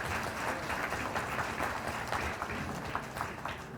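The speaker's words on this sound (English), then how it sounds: "let's give everyone a round of applause" Quiet audience applause at a town swearing-in ceremony in Winthrop, a steady, fairly distant patter of many hands clapping for a few seconds.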